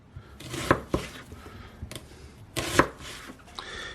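An onion diced with a knife on a board, giving a few sharp separate chops at irregular intervals, close and moderately loud, with quiet pauses between strokes.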